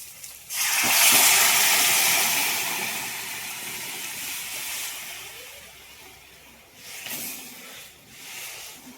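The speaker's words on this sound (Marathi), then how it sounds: "आता राजमा शिजवलेलं सगळं टाकणार आहे शिजवलेलं पाणी म्हणलं आता टाकूया" Cooked rajma and its cooking water are poured into a pan with spices, a loud splashing gush that starts abruptly and slowly fades, followed by a second shorter pour.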